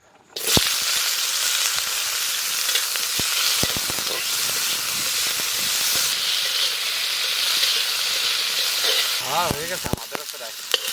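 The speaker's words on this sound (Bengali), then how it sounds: "মশলাটা আমরা একটু তেলে ভাজে নেব কি কি ভাজতেছি দেখা দিস সর্ষের তেল অল্প পরিমাণে টমেটো কাঁচা লঙ্কা আর আদা" Tomato, green chili and ginger frying in mustard oil in a pan, a loud continuous sizzle that starts abruptly and holds steady, with occasional stirring knocks and a brief squeaky scrape near the end.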